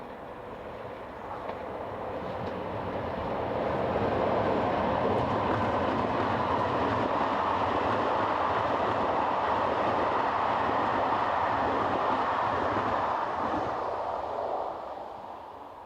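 A French BB26000 electric locomotive hauling a passenger train rumbles past after leaving Saint-Germain-des-Fossés station, with a steady roar and faint clickety-clack of wheels, swelling as it nears and easing slightly at the end.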